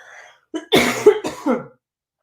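A short burst of harsh coughing, two or three quick hacks close to the microphone, with a quiet throat sound just before.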